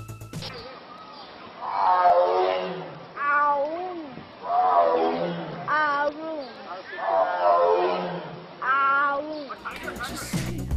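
Close, loud tiger calls at a zoo come in four or five drawn-out bursts with moaning, roar-like rises and falls, while a voice is heard between and under them.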